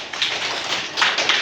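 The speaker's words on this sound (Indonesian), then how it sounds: "Tepuk tangan untuk teman Sari." A short burst of scattered hand clapping from a small group, loud and close, with a couple of sharper claps near the end.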